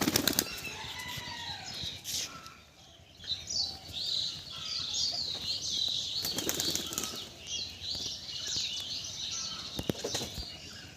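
A released pigeon beats its wings hard in repeated flurries of flapping, close and loud at first, with soft chirps and bird calls in the background as the flutter continues on and off.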